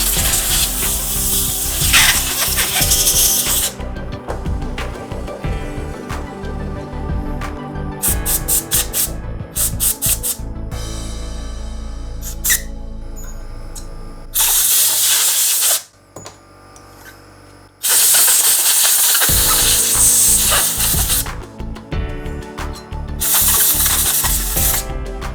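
Compressed air blasts through the nooks of a disassembled everyday-carry pistol, loud broadband hissing in several long bursts separated by brief pauses and quieter rattling handling sounds.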